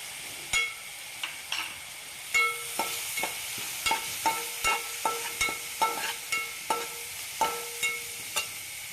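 A spoon stirs cabbage manchurian with soy sauce in a pan, giving a steady series of sharp metallic scrapes and taps about once a second over a faint sizzle.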